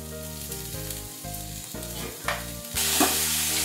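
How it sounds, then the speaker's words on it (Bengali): Ginger paste and chopped tomato fry in a pan of oil for a vegetable dal, giving a steady, close sizzle with periodic stirring scrapes that swell into a louder, brighter spatter near the end. "টমেটোটা দিয়ে এবার দিয়ে দিচ্ছি আদা বাটা।"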